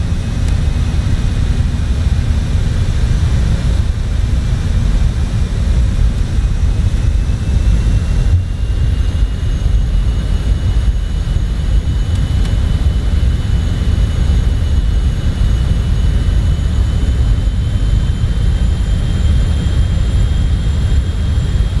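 Jet cockpit in Microsoft Flight Simulator with the landing gear being lowered, a constant loud engine roar and airflow rumble that barely changes throughout, with no voices.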